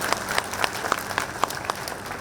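An audience claps together at a public event, a short burst of roughly evenly spaced, fairly loud hand claps with a slight crowd murmur behind.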